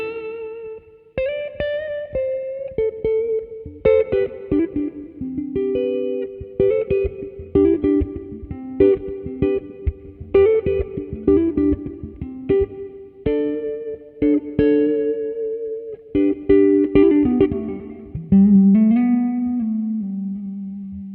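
A clean electric guitar on the neck pickup of an Epiphone Riviera P93 Custom, warm rounded notes and chords in a loose melodic phrase, solo and close.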